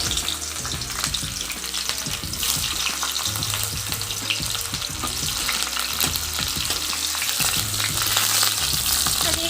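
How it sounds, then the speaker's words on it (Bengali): Chopped onions hitting hot oil tempered with whole garam masala for a chicken liver and gizzard kosha, a loud dense crackling sizzle with busy stirring and clattering throughout, close up with no talk. "এখন দিয়ে দিব কিছু কুচনো পেঁয়াজ"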